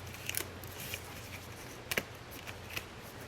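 Scissors snip through a sheet of cardstock for a floating flower frame craft: several quiet, crisp cuts spaced irregularly, with a cluster of two quick snips in the middle, close up in a quiet room.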